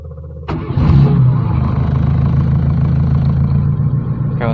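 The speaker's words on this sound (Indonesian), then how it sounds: "Oke, akan saya coba untuk hidupkan mesinnya ya." A Suzuki Forsa car fitted with a motorcycle CDI ignition cranks briefly and starts at once, then settles into a loud, steady, close idle with a small rise in revs.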